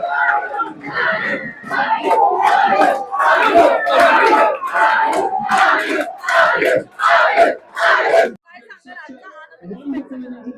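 Crowd outside a house in Virar, Vasai, cheering and yelling in celebration of India's cricket World Cup win, a dense roar of many voices with rhythmic surges that cuts off into quieter scattered sounds near the end.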